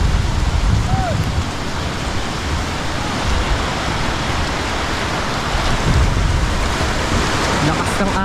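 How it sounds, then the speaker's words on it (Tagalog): Strong sea waves on the Lingayen Gulf beach in Pangasinan, Philippines, roar in a steady, loud broadband wash of surf that runs without break, close and full throughout. "Lakas ng alon no."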